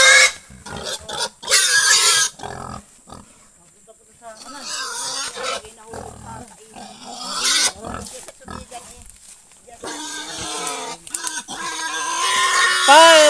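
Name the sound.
pig grunting and squealing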